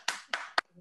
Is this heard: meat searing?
no